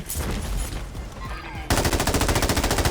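Gunfire from the video game Warzone crackles in rapid bursts, first scattered shots with effects, then a dense, loud automatic volley that rattles on steadily to the end.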